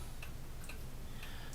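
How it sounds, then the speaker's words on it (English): A wall clock ticks steadily indoors, a few faint, evenly spaced ticks over a low room hum. "That is the sound of a grand clock."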